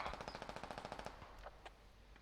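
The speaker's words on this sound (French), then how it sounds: "il tire au hasard dans la smoke" Rapid automatic gunfire from the military shooter game Squad, a fast even burst of about a dozen shots over roughly one second, then a few isolated sharper cracks fading out.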